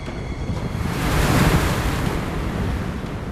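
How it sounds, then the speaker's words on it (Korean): Fierce waves crash and churn around a fishing boat at sea in rough, overcast weather off Ulleungdo, a loud, continuous roar mixed with heavy wind buffeting the microphone. "매섭게 몰아치는 파도."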